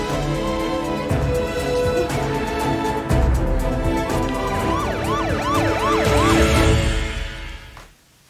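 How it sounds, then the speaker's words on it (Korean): An ambulance siren wails loudly and close, rising and falling in repeated sweeps over steady traffic noise, then cutting off abruptly near the end. "빨리 구급차 좀 보내주세요."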